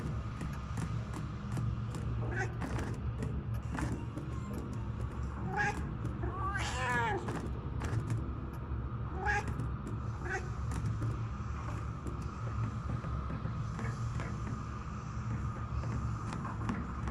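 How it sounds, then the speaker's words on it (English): In the Murdered: Soul Suspect video game, a cat lets out a few drawn-out meows and caterwauls over a steady low background rumble. "Shoot, Cat, get out of here"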